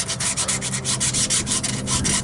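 Rapid back-and-forth rubbing and abrasive scuffing of the rusty mating surface on a 1965 Ford Econoline rear differential, loud and close, in quick regular strokes with no talking.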